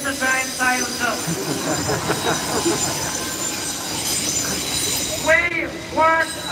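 A train rolling past during a street protest in Dublin, with loud, continuous rail rumble and wheel noise, some harmonic squeal, and a crowd's chanting or shouting voices rising above it near the end.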